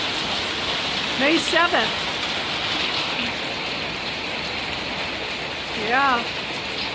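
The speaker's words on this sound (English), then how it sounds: "I just wanted to do a short little video and show you all the hail." Hail falling in Mexico, a dense steady patter on surfaces, with two brief speaking voices over it.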